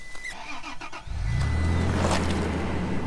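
A manual-transmission car engine cranks and catches after about a second, then settles into a steady, loud idle rumble close by.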